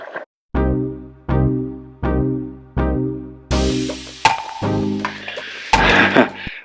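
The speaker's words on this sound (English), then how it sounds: "But I got to drill this first hole." A power drill whirs in repeated short bursts with brief pauses, then runs longer and grinds as it bites into material while drilling a hole for fender flares on a Fuso expedition camper, loud and close.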